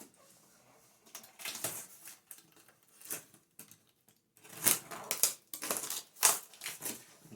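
A closed cardboard box is cut open and its flaps pulled apart, giving a series of irregular crunching, scraping and tearing bursts with short pauses, close and fairly soft.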